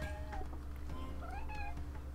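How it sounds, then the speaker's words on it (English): A pet cat meows several times in quick succession, close and clear over a low steady hum of background noise. "My cat keeps meowing at me"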